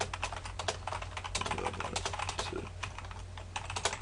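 Fast, steady clatter of keys on a computer keyboard fills the whole stretch, close and continuous, with no talking over it.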